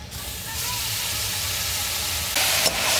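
Continuous hissing sizzle of garlic paste frying in hot oil for a chicken curry, loud and close, swelling briefly near the end.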